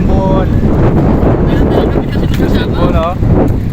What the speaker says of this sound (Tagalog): Mahangin dito guys ngayon, mahangin.